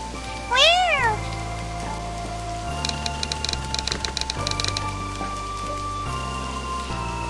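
Cat meowing in a video game scene, one clear rising-and-falling meow near the start over steady rain, followed by soft tapping raindrops and low background music.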